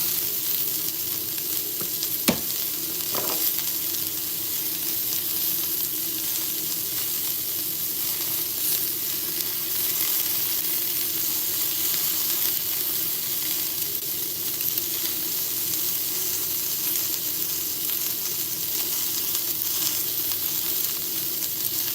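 Garlic frying in a pan gives a steady, close, bright sizzle that holds evenly throughout, with a couple of faint clicks early on and no talking.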